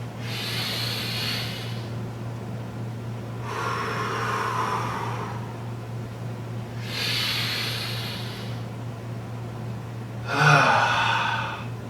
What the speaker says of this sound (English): let's take our 3 inhales together, reaching up to the sky with a controlled breath, and control that exhale down as well